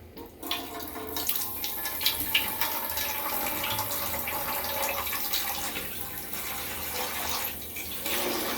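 Water rushes steadily from a touchless Delta kitchen faucet supply line during a solenoid flow test, a continuous close hiss of running water with no talking.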